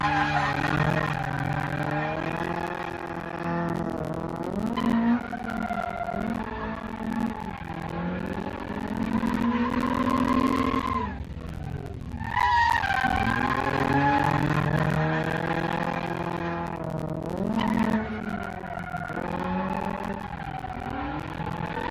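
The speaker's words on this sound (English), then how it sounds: "accelerating with a clutch kick to lock the differential, and then as I decelerate, using the brakes and turn-in to lock the differential under braking" Car on a track-prep test, tires skidding and squealing as the locking differential engages under clutch-kick acceleration and again under braking; long wavering squeals rise and fall over revving engine noise for about twenty seconds, with a brief lull midway.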